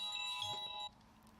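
A phone rings with a bright, steady electronic tone that holds for under a second, then cuts off abruptly into quiet room noise.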